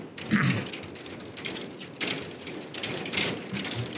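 Hail coming down outside during a city council meeting in North Liberty, a steady broadband patter with scattered thumps filling the whole stretch at moderate loudness, no voices over it.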